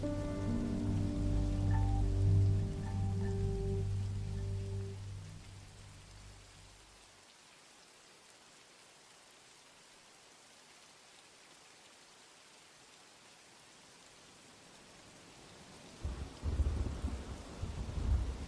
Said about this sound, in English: The storm continued to move in as George and his team began their journey.